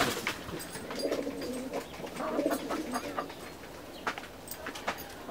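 Pet chicks make soft, repeated cooing and chirping calls at close range, irregular and overlapping, with a few sharper peeps scattered throughout.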